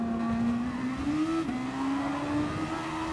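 Super Formula race cars in GT Sport circuit racing at Interlagos, a steady high-pitched engine whine rising gradually with a brief dip midway as the car shifts, with other cars audible close behind; no talking.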